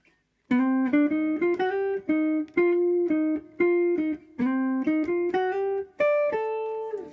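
A Made-in-Japan Fender Jazzmaster electric guitar with heavy strings, on its rhythm circuit, plays a clean, round rhythm pattern of plucked chords and notes with short gaps between phrases, no voices.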